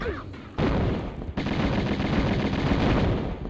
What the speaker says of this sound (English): I pull out my guns and run towards this guy.